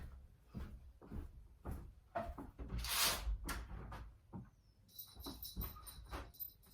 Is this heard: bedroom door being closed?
yes